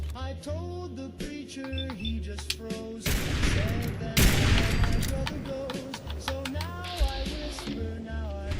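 Gunfire in the video game Fallout 4: a dense burst of loud shots fills the middle stretch, with scattered game sounds and music tones before and after.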